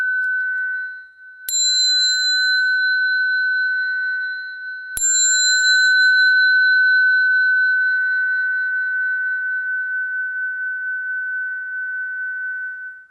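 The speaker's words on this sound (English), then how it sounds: "Just ring the bell for this." A bell at a Buddhist service is struck twice, a few seconds apart, each bright strike ringing on in a long, steady, slowly fading tone.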